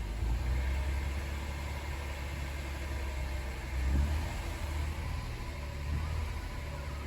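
A 2016 Honda Accord V6 engine idles steadily at low volume, with a brief rise in revs partway through and another slight swell near the end.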